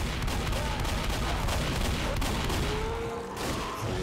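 Dense gunfire in Left 4 Dead survival mode, rapid overlapping shots and booms rattling without pause at steady loudness.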